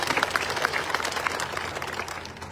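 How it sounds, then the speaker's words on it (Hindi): Audience applause welcoming a guest, Sardar Abdul Rahman Qazi, to a village gathering in Haryana: a short burst of dense clapping that holds steady and then thins slightly toward the end, with no voices over it. "जोरदार तालियां से स्वागत कीजिए।"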